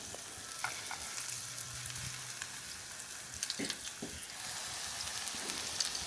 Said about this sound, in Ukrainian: Без олії не рекомендую смажити